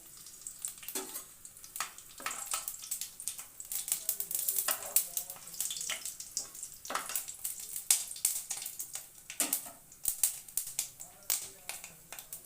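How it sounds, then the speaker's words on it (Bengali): Black cumin and a slit green chilli sizzle in hot oil, crackling in sharp irregular pops and bursts over a steady frying hiss, close and moderately loud with no talk. "তেল গরম হয়ে গেছে, কালো জিরে দিয়ে দিলাম, ওই একটা কাঁচা লঙ্কা মুখ ফাটিয়ে দিলাম"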